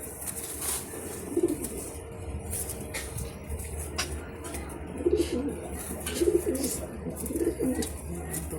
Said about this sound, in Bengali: পায়রাটা তুলছে তোমরা দেখো